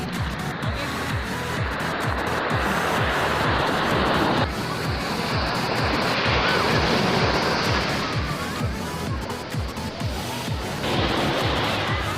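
Sea waves surge onto the beach at Marine Drive during a monsoon high tide, a loud, close, continuous roar of crashing surf with wind, heard alone without talk.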